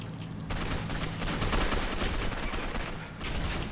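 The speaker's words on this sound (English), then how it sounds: "Shotgun!" Dense, rapid gunfire from a shotgun in the video game Gotham City Imposters, a continuous barrage of loud close blasts that runs almost without pause after a brief quiet start.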